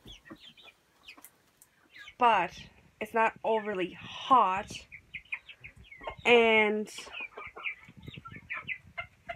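Calm backyard laying hens give several loud harmonic squawks and clucks, bunched mostly mid-clip, while a person talks over them nearby.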